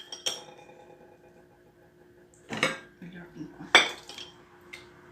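Pots and cutlery clink and clatter during feijoada assembly in a kitchen, with a few sharp metallic knocks in separate bursts against a quiet background, and talk faintly present.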